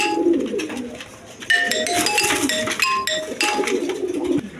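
A pair of high-flying pigeons coo among other birds at a pigeon market, with repeated soft calls, some brighter chirps and light clinking over steady ambient noise.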